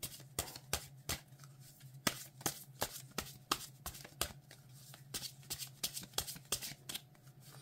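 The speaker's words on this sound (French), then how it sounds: "Elles se mélangent extrêmement bien." Marseille tarot cards being shuffled by hand, a quick rhythmic run of crisp riffling slaps and flutters, close and fairly quiet, with no talking.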